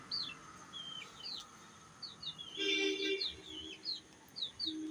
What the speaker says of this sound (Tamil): கடக்நாத்து கோழிங்க